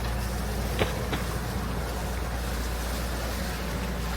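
A sailboat motors along under engine power, a steady low engine drone mixed with water and wind noise, with two brief faint clicks near the start and no talking.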